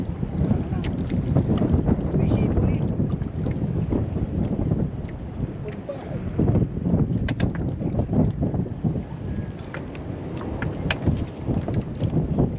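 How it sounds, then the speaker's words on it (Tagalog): Strong, steady wind roars and buffets the microphone throughout, with occasional gusts and a brief voice speaking underneath. "Hangin ay parang bagyo"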